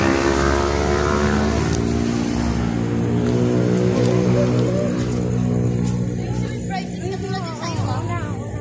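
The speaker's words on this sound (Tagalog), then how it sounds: "Ingay ng motor." A motorcycle engine drones loud and close near a bridge, a steady buzzing tone that shifts slightly in pitch as it runs, without any quiet gaps.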